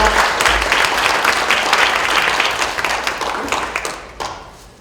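Audience applause at a Korean book-launch talk concert, a dense wash of clapping from a crowd that holds steady, then thins into scattered claps and fades near the end.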